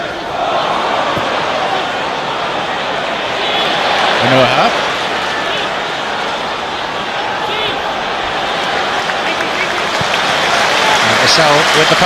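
Football stadium crowd at Manchester City versus Everton applauding, a broad continuous roar of clapping and crowd noise, loud and distant-filling, with a commentator talking over it throughout.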